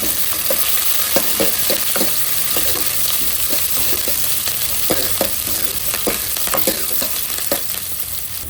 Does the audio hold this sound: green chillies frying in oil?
yes